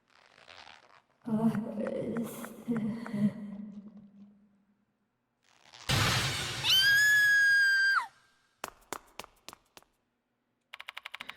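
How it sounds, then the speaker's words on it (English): A girl's scream from the horror video game Spirit Hunter: Death Mark II, a loud, shrill, rising wail lasting about two seconds. Other game sounds come before it, and sharp clicks and taps follow. "She screamed and ran away."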